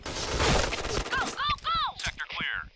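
Sniper shots from the PGM Hecate II rifle in an online shooter, a loud blast at the start followed by chirpy game effects and a player's excited voice talking over the action.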